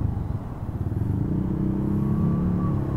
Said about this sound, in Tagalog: Medyo traffic kasi.